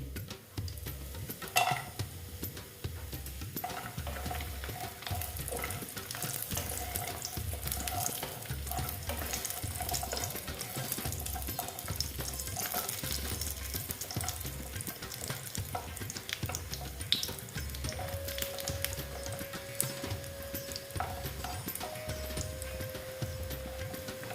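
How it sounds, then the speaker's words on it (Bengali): Lentil dumplings (bori) fried in a pan for a vegetarian bottle gourd dish, a steady low sizzle with rhythmic stirring scrapes throughout, fairly quiet and with no voices. "এই দেখো বড়িগুলো ভেজে নিচ্ছি"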